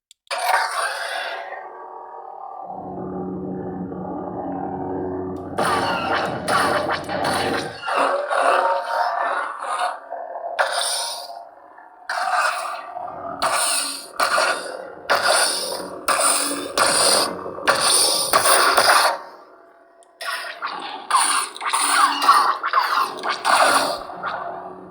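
A Proffie-driven Graflex 2.0 Starkiller conversion lightsaber with a 7/8 inch neopixel blade plays its Son of Corellia sound font: a deep ignition rumble followed by a steady hum broken by repeated loud swings and clashes, fairly close with no talk.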